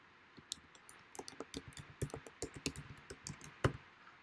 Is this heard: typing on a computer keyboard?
yes